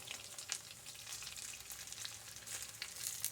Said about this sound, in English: I'm going to fry them till they're golden brown